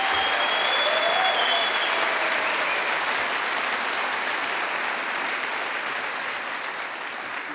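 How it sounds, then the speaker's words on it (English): Loud, sustained applause from a concert audience for a school mariachi group, a dense wash of clapping with no talk over it, holding steady for over seven seconds. "One more round of applause for the Lakeview Mariachi,"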